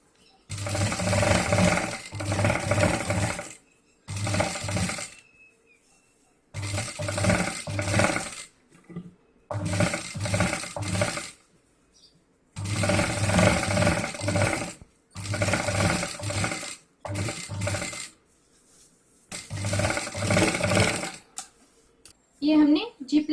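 A sewing machine stitches a 25 zip onto a homemade travel bag in loud, rapid bursts of a few seconds each, separated by short quiet pauses, repeated about eight times with no voices over the stitching.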